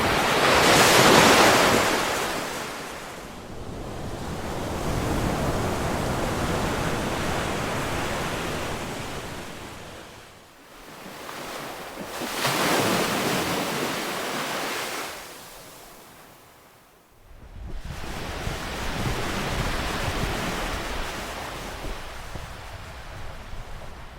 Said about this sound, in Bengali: সমুদ্রটা আমি দেখাচ্ছি।